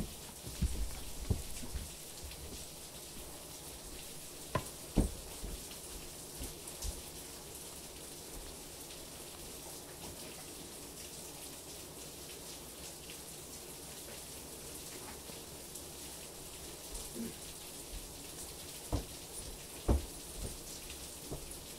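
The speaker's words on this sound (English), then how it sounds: "I had no idea how hard it was raining until I took my headphones off just now" Steady rain falls continuously as a soft, even hiss, with occasional louder drips and taps scattered throughout.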